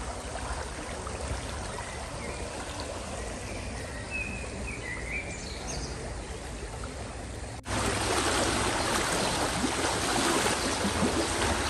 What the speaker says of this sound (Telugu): మీకు వాటర్ సౌండ్ వినిపిస్తుందా?